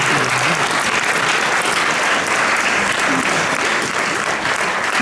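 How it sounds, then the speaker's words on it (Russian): Sustained applause from a film festival audience in St. Petersburg, dense and steady throughout, loud and close with no pauses. "ваши аплодисменты"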